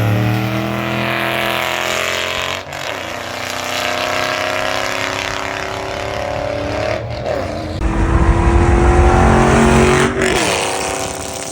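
A Ford Mustang S197 3V engine rumbles and revs through a loud, throaty exhaust with thin aftermarket Corsa mufflers, with several brief drops between bursts of revving.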